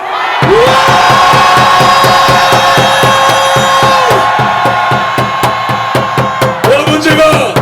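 At a Save Korea rally in Daegu, a large crowd roars a loud, sustained cheer, with a long horn tone stopping and restarting and rhythmic beats over the shouting near the end.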